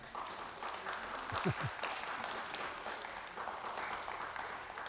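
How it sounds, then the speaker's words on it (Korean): A Sunday congregation at the Berlin Mission Church applauds together, a soft, continuous, fairly distant patter of many hands that holds steady throughout, with a brief voice rising faintly partway through. "우리 박수 한번 하겠습니다"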